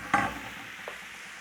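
Chuck steak, also called stewing beef, dropped into a hot pan gives a brief sizzling burst, then a steady low frying hiss with a short clunk of stirring about partway through.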